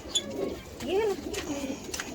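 A large, fine-bred domestic pigeon gives a soft rising-and-falling coo near the mic against a steady background hum, with a few weaker calls around it.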